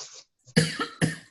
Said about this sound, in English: So I apologize for the coughing.